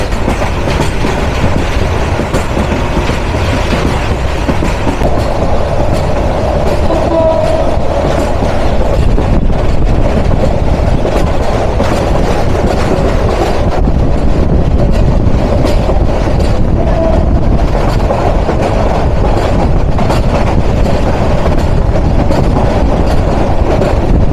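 Bangladeshi passenger train rolling along the rails, heard from an open carriage doorway at day or night, a loud steady roar with clickety-clack wheel rhythm and faint squeals running continuously throughout.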